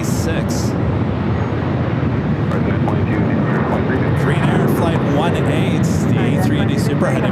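A 29-year-old Boeing 757-200 airliner at LAX, originally delivered to Northwest Airlines, roars loud and steady throughout, with faint voices at times over the engine noise.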